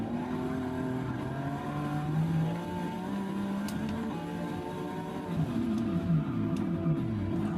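A Porsche 962 endurance prototype race car in Forza Motorsport 6 drones steadily at moderate distance, its engine pitch rising and falling gently through gear changes with no talk over it.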